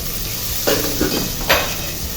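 Ginger paste and garam masala fry with rice in a pot for vegetable khichuri, a low steady sizzle broken by three short scraping stirs.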